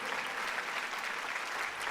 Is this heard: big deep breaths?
no